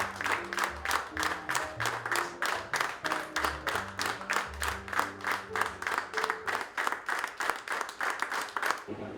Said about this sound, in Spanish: Entonces, les pido que demos un aplauso de 30 segundos por el Bauchi.